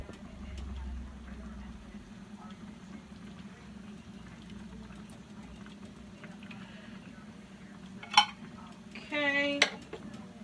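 Quiet scraping and clinking of a utensil stirring diced tomatoes and green chilies into a pot of taco soup, with low background hum and a few louder metallic clanks near the end.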